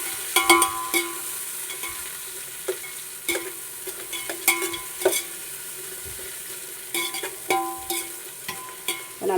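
Green chillies sauté in a pan for coriander coconut rice, with a steady sizzle of frying broken by repeated scraping and clinking strokes of a spoon against the metal, fairly close and with no one talking.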